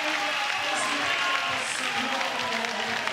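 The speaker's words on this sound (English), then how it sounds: "this crowd is getting in it" Crowd cheering and applauding during a women's FIBA 3x3 World Cup 2023 basketball game between Austria and Brazil. The noise is a dense, steady roar of clapping and shouting that continues throughout, with a commentator talking over it.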